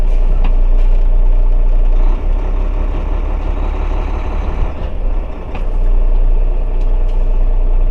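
A semi truck tractor slowly pulls out from under a trailer resting on its landing gear, its diesel engine rumbling at a steady low drone with a couple of brief hiss-like bursts.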